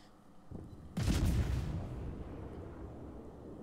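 Torpedo hits on a ship in World of Warships: a faint thud is followed by a heavy, rumbling explosion that swells suddenly and then decays into a long, low roar.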